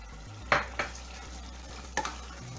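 Chopped garlic and fresh pepper are stirred while frying in a pan, giving a low background sizzle broken by a few sharp spatula scrapes against the pan, close and sparse.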